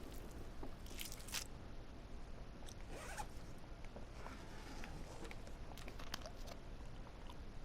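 Hand-skinning a carcass in The Long Dark survival game: repeated wet tearing and ripping strokes, squishy crunches and scraping rasps come in irregular bursts at a fairly faint level, with no talking.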